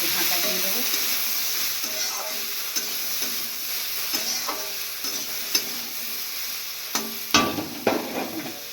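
Vegetables with salt and turmeric being stirred in a frying pan, a steady sizzle under repeated scraping strokes of a spoon, with a few sharper knocks near the end.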